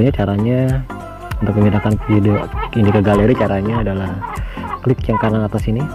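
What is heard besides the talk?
chicken clucking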